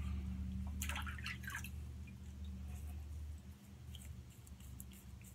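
Water drips and splashes briefly as a Razor Rock alum block is wet after a straight-razor shave, a short soft burst near the start over a low, steady room hum.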